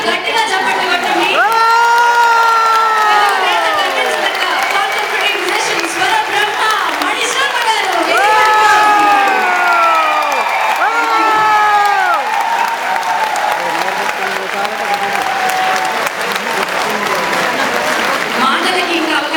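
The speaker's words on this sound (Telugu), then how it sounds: "ఒక్కసారి గట్టిగా చప్పట్లు కొట్టండి" Large audience clapping loudly at a stage event, with cheering and shouting voices rising over sustained, dense applause.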